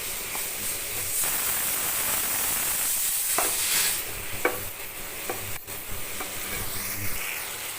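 Onions sizzle and fry steadily in a pan after rock salt goes in for a dried-fish, brinjal and potato kuzhambu, with a few sharp spoon scrapes and stirring clinks over the continuous hiss.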